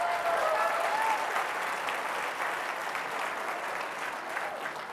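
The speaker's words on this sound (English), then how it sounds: "Give them a huge round of applause." An evening storytelling event audience gives sustained, dense applause that holds steady for several seconds, with a few faint cheers at the start and slowly easing toward the end.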